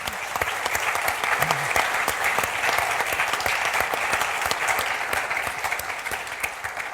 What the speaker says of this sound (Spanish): Les pido un aplauso para don Jorge Baradit.